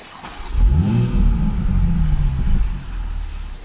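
A Toyota GR Supra 3.0 fires up with a low rumbling start, rising into a steady deep idle that swells and settles, heard close and alone with no talking.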